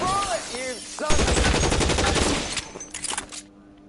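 Rapid gunfire from a shootout in the video game LA Noire, a dense burst of shots lasting a couple of seconds and then a few scattered trailing shots, loud and close, with brief voice snippets at the start.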